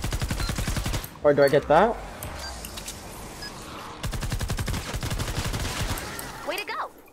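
Rapid gunfire from Fortnite Save the World shooting zombies rattles in fast, evenly spaced bursts, loud and close, with someone talking briefly between the volleys.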